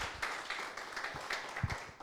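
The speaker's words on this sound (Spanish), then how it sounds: "Dan un aplauso fuerte al Señor en esta mañana." A church congregation applauds during a service, a fairly soft, uneven patter of many hands with a few sharper claps standing out.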